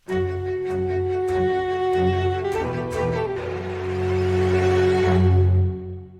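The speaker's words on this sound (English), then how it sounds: "we've got the tense pursuit sting up here" A short, tense orchestral music cue with sustained low strings and sharp accented hits, swelling toward the end before tailing off.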